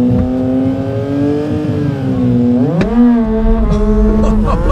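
An electric Mini Cooper SE in sport mode launching in a drag race against a Yamaha MT-09 motorcycle, a loud, close, rising whine as it accelerates, with a sharp pitch shift partway through and no talking.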